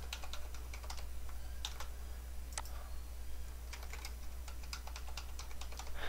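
Steady keyboard typing on a computer while entering a password during a Windows Server 2016 domain setup, a quick run of light clicking keystrokes that is close and continuous over a faint constant hum, with no talking.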